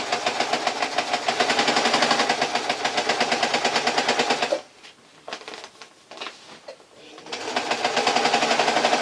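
A sewing machine stitches the hem of a PVC cotton apron in a steady, loud, rapid mechanical chatter that halts briefly midway amid softer handling noises before resuming.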